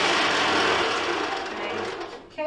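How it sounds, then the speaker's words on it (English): An electric mixer running on high, creaming butter and sugar for spider cupcakes, a loud, steady whirring drone that eases slightly toward the end, with a brief clatter at the close. "I usually use the mixer on high for this"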